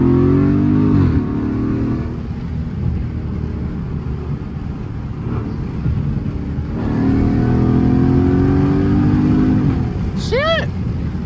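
Dodge Charger Scat Pack engine heard from inside the car as it revs and launches around 4,000 RPM, with loud rising surges and a steady drone between them.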